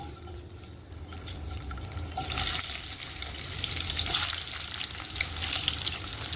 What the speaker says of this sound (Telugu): ఒక 2 పెద్ద సైజు ఉల్లిపాయలు, వెల్లుల్లి వేసుకొని వేయించుకుందాం